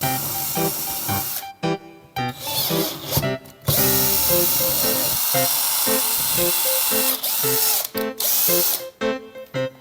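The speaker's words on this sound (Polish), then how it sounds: "Na początek muszę wywiercić otwory na ten tutaj pręt gwintowany." A power drill bores holes to fit a threaded rod, running in loud sustained bursts with a hissing, whining tone and short pauses between runs.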